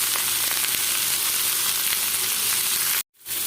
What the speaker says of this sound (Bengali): লবণ হলুদ দিয়ে ভেজে নিয়েছি।